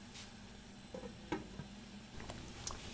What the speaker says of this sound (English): And I'm going to let this sauce simmer for about another 5 minutes to burn the alcohol out.